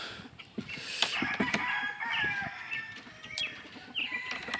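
A white crested black cockerel crows repeatedly, its calls bright and close, with occasional wing flapping and soft clucking from other fowl in a brood pen.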